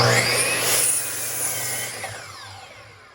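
A saw cuts through a piece of wood for an upcycled rustic coat rack, a close, loud rasping stroke that fades gradually as the cut finishes.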